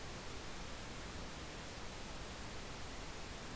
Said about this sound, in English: So I'm going to comb filter on the wire using pink noise.